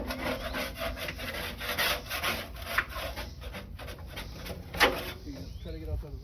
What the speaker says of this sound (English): Now we can take our scraper and just scrape over this one.